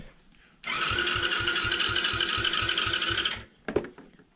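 A Taotao 110cc engine cranks over for about three seconds in a steady, loud, rhythmic whirring burst with regular low pulses, then stops abruptly, followed by a couple of brief knocks.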